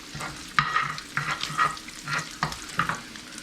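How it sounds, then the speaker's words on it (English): Bacon frying in a pan on a home stove gives a soft, close sizzle, with a steady run of short stirring or spatula scrapes over about three seconds. No voices are heard. "See how that bacon's cooking up nice."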